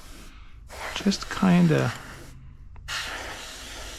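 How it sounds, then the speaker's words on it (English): An airbrush sprays night camouflage paint onto a Matchbox Ju-188 model aircraft kit, a soft steady hiss in two bursts separated by a pause, with someone talking quietly between them. "I'm trying to spray"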